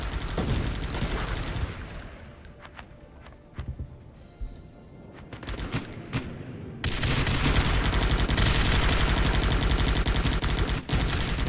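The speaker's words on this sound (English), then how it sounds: "it's beautiful when you see the mortars hit consecutively like that" Mortar rounds strike a base in the video game Guns Up!, a rapid run of sharp impacts and crackling bursts, loud and dense, with a brief quieter lull midway before the barrage resumes at full intensity.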